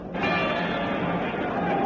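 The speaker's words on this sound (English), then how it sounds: "And there goes the bell for the first round." A boxing ring bell sounding for the first round as a radio drama effect, a single sustained ringing tone held steadily and fairly loud, with crowd-like noise underneath.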